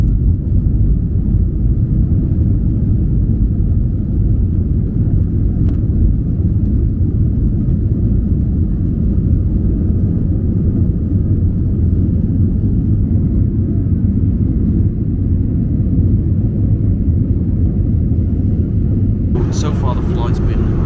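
Airliner engines rumbling inside the cabin on a London Heathrow to Paris flight, a steady loud low drone that continues unbroken, with a brighter burst of noise near the end.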